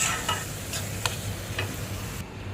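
Spice paste stir-fried into meat in a pan, giving a steady sizzle with light repeated ticks and scrapes from stirring close by.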